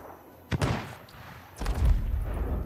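Gunfire in the pirate video game Sea of Thieves: two sharp shots, a lone crack followed about a second later by a heavier, booming blast that rolls on into a sustained low rumble.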